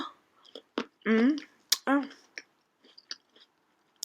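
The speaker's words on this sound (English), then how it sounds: "excuse the chewing" Close, soft mouth clicks and wet smacks of a person chewing food come in irregular bursts, mixed with short bits of talk in a quiet room.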